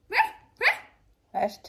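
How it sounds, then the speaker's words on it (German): A dog gives three sharp, loud barks close by, the first two in quick succession and the third after a short pause, with a brief spoken word among them. "Und sie kann auch laut bellen."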